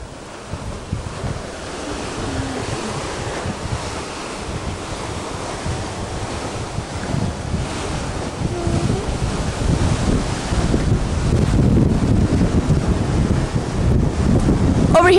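Strong wind gusts across the open deck of the ship MS Richard With, a steady broadband roar with rumbling microphone buffeting that grows louder toward the end, mixed with a wash of sea surf.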